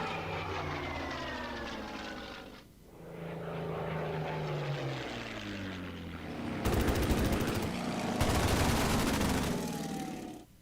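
WWII fighter aircraft attacking in the Battle of Britain strategy game Order of Battle: propeller engines drone and swoop with falling pitch, then rattling bursts of machine-gun fire, loud and sustained.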